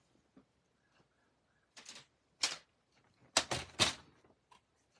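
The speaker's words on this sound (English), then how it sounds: "I'm going to cut off of this end." Paper being cut for a stamp club card-making craft, heard as a few short, crisp snips and slicing strokes, close and fairly quiet, with brief pauses between them and no talking.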